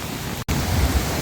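Roaring floodwater surges after the first heavy rain in the Satpura mountains, a dense, steady broadband rush with a brief cut near the middle and low rumbling underneath.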